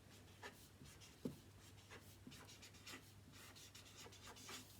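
A pen writes on paper in quiet, faint scratching strokes with a few small taps, heard close with no one speaking.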